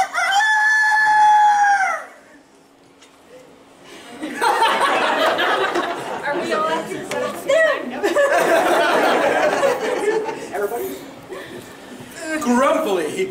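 A rooster crows once, loud and close, then clucking and laughter-like chatter follow with talking over it.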